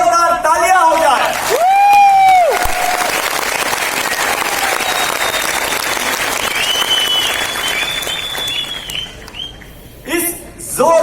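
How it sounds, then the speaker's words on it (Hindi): Loud sustained audience applause honoring the year's NEXF achievers, steady clapping with whoops and crowd noise mixed in, framed by a talker at the start and end. "तो सबसे पहले इस वर्ष के नेक्सफ के अचीवर्स के लिए जोरदार तालियां हो जाए।"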